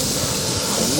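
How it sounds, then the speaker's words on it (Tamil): Crab pieces go into a hot pan for a crab omelette, producing a steady, close, hissing sizzle that holds at an even loudness for about a second, with no clear break or change. "இப்போ நண்டை போட்டுக்கிறோம்."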